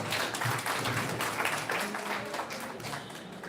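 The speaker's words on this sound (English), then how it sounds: "Big round of applause." Faint, distant audience clapping at an NSS volunteer event, a continuous patter of many hands sounding somewhat muffled and far off.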